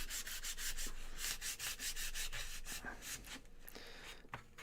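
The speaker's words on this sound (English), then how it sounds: "Let's sand these down." Wooden cocktail sticks are sanded down for model making, giving a close, steady run of rhythmic rasping strokes with no talking.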